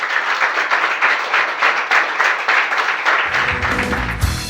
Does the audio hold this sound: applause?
yes